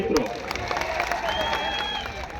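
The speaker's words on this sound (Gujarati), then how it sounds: "તમારા માટે પણ આપણે તાળીઓથી વધાવીએ." A large outdoor crowd at an Aam Aadmi Party rally in Katvara claps steadily for a couple of seconds, a continuous wash of applause with a speaker's voice running over it.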